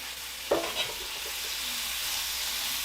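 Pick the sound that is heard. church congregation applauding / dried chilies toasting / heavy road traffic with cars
dried chilies toasting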